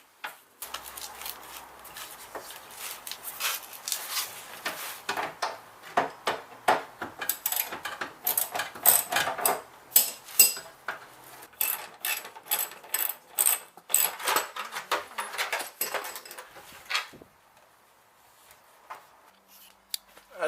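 Bolts being undone to remove a car wing during a restoration: a long run of sharp metallic ratchet ticks and clicks in rapid bursts, close and fairly loud, easing off near the end.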